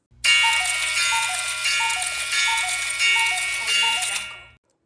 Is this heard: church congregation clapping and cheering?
no